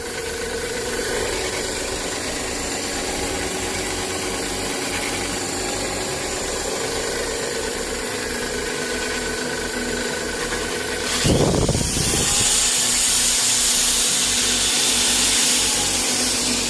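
A homemade fuel-free two-stroke generator hums steadily throughout, joined near the end by a louder burst of whirring as an electric drill powered by it spins up.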